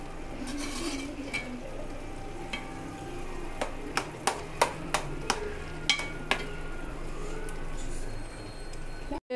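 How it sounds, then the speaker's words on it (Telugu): Carrot halva being stirred in a pan: a steady low cooking hiss with a series of sharp spoon taps against the pan, about a dozen clustered in the middle, faint rasping between them. "అందుకోసం మధ్య మధ్యలో కలుపుకుంటా ఉండాలి"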